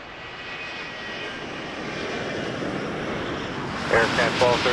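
Air Canada jet airliner on its takeoff run at Toronto Pearson airport, a broad roaring engine rumble that builds steadily and stays loud, with a radio voice briefly cutting in near the end.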